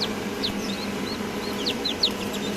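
Chickens and newly hatched chicks at a large hatching, with repeated high peeping chirps coming in quick bursts over a steady low background hum, fairly close and clear.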